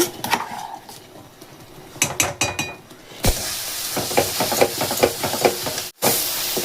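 Jaggery boiling in a pan, a close hiss and bubbling that swells into a loud steady sizzle, with scattered clinks of a utensil against the pan and no speech.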